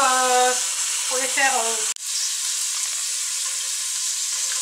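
Chicken pieces browning in a pan for coq au vin give a steady, loud sizzle throughout. Sustained frying hiss runs close and continuous, with a voice speaking over it in the first two seconds.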